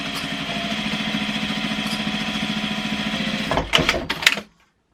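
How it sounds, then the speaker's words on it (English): A sewing machine stitches across fabric for a small animal cage ramp cover, a steady fast motor hum with rhythmic needle clatter that runs evenly, then stops with a few louder clunks. "We're just going to put this under your presser foot about a 1/2 inch and just sew across all the way."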